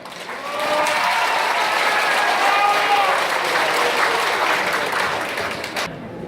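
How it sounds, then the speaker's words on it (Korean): A large crowd at a Senior Citizens' Day gathering bursts into loud, vigorous applause that swells quickly, holds strong for several seconds, then eases before stopping abruptly. "이왕에 박수를 주시려면 우렁찬 박수를 한번 주세요."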